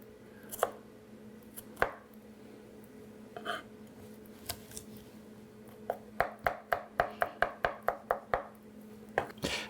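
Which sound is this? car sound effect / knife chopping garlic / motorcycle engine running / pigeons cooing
knife chopping garlic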